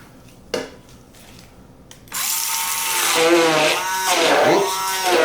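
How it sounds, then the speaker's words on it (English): A loud electric whirring motor starts abruptly after a couple of seconds of quiet, an immersion blender churning a Peruvian sauce steadily with its pitch wavering as it mixes. "grab our immersion blender and mix it all together"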